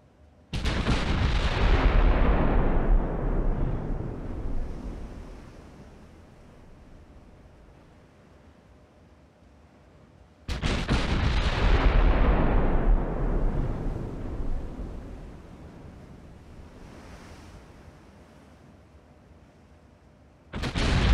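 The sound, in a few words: naval artillery fire in Ultimate Admiral: Dreadnoughts video game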